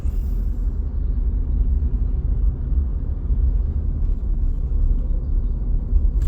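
Steady low rumble of stuck traffic heard from inside a vehicle during a morning commute in a jam, a constant engine and road drone with no talk.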